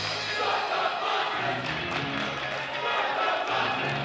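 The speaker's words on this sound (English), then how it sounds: "And the crowd chanting" Basketball crowd chanting in a high school gym late in a game, a loud, sustained mass of voices in rhythmic unison with a commentator talking over it.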